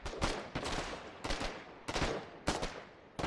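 Artillery battery in the war game Foxhole firing repeated heavy shots, roughly four sharp booms spaced under a second apart, each with a rumbling tail, loud and close with no talk.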